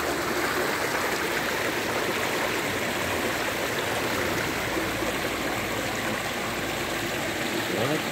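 A small forest stream runs downhill over rocks after heavy rain, its close, steady rushing and splashing unbroken from start to finish.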